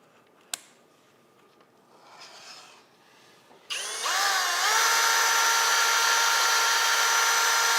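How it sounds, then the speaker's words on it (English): A power drill spins up with a sudden loud whine after some quiet handling noises, then runs steadily at high speed to the end, mixing a freshly poured two-part compound. "if you're going to mix with a drill, make sure that you have a heavy enough wire"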